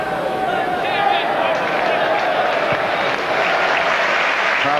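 A football crowd at a 1994 League Cup match between West Ham and Walsall applauds, a loud, steady roar of clapping and cheering that fills the stadium throughout.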